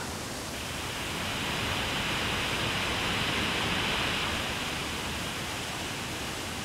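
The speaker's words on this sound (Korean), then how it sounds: "높이에서 떨어지는 비룡 폭포의 우렁찬 울음소리로 백두산의 봄은 이제 절정을 맞이한다" Biryong (Changbai) waterfall on Baekdu Mountain, about 68 m high, roars in a dense, unbroken rush of falling water that swells slightly and holds steady throughout.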